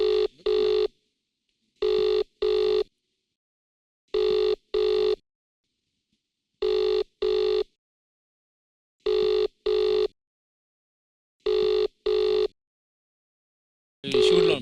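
A phone rings for a call to Charan, a loud electronic double ring repeating at a steady pace about six times with silent gaps between, alone and close.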